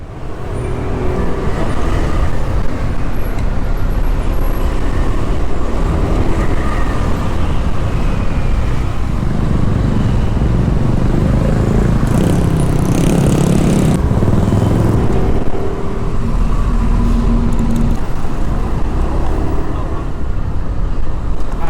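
Steady, loud road roar heard from a Honda Lead 125 scooter on a busy Thai road at night, with engine and wind noise and passing cars throughout; someone speaks over it.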